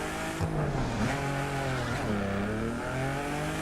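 A BMW M4 engine in The Crew 2 video game holds a steady, loud harmonic drone, rising and falling through gear changes across the short stretch, with no talking.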